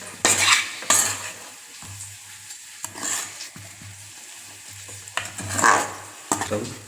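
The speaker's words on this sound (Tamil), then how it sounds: "நல்லா எல்லா சைடும் பிடிக்கிற மாதிரி கிளறணும்." Tomato rice being stirred in a pan with a metal spoon: repeated scraping strokes, a few seconds apart, close and fairly loud over a low, steady hum, with no talking.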